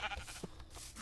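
A single sheep in a blocky farming game gives a short, faint bleat over a low background hum.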